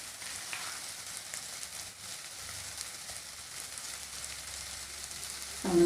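Butter melting and sizzling in a pan while cooking chicken macaroni, a soft, steady crackling hiss that stays fairly quiet throughout.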